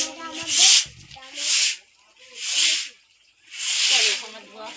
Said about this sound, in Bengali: জল যাচ্ছে।